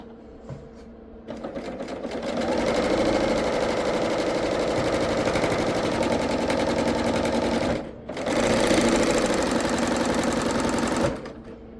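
A serger runs a 4-thread overlock stitch at width 6 in two loud sustained bursts, a fast buzzing whir with a brief pause between runs, close by and without talk.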